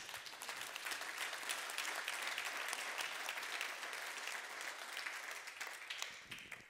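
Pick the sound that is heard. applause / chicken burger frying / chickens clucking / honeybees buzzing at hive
applause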